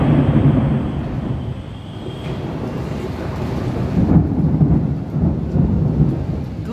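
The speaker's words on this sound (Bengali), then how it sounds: "ঝড় তুফান শুরু হয়ে গিয়েছে, একদম কালো অন্ধকার হয়ে গিয়েছে।" A thunderstorm rolls in over Sylhet at the end of Boishakh, with a low, continuous rumble of thunder and rain surging and easing throughout, loud and close.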